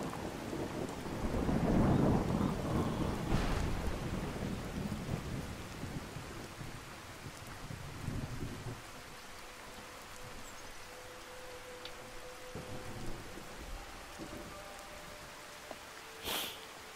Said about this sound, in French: Pour une fois qu'il pleut.